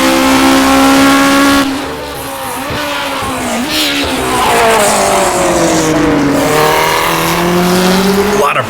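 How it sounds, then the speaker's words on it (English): A 1960s Formula 1 car in rFactor 2 locks its brakes into a corner, loud tire squeal wailing over the engine's whine as it drops in pitch, then revs climb again on exit. "A lot of brake lock up there into the first corners"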